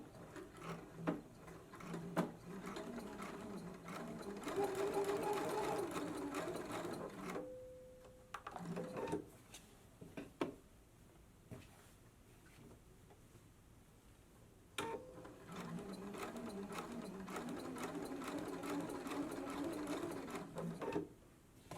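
A sewing machine runs a straight reinforcing stitch along a dress opening, a fast steady mechanical whir in bursts with a pause in the middle, fairly quiet and close.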